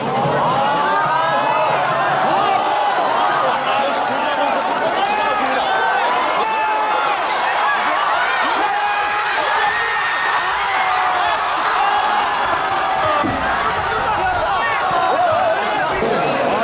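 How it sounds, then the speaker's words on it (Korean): Football fans in the stands of a stadium at a match involving Gangwon FC, keeping up loud, continuous chanting and cheering throughout, with a commentator talking over the crowd. "관중석에서도 팽팽한 양팀의 응원 공방전"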